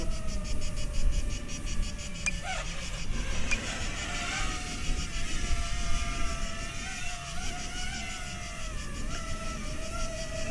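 An FPV drone flies and comes in to land, its motors giving a steady high whine with wavering pitch, continuous and fairly near.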